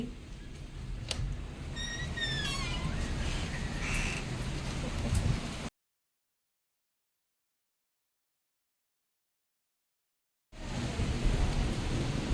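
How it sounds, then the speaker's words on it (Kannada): Steady heavy rain hisses continuously under a dark afternoon sky, with a few bird chirps early on; the sound cuts to silence midway, then the downpour resumes. "ಫುಲ್ಲು ಮಳೆ ಬರ್ತಾ ಇದೆ ಫುಲ್ ಕತ್ಲೆ"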